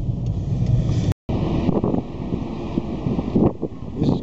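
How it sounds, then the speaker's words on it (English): Strong wind blowing outdoors under a black sky, buffeting the microphone with a loud, rumbling roar, broken by a brief dropout and occasional gusty swells. "Black sky, strong wind, and there is sun."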